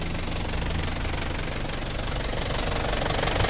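Isuzu D-Max with a 4JH1 diesel engine suffering low power, revved up to about 3000 RPM; a steady, loud engine drone with knocking texture runs continuously and close, no talk.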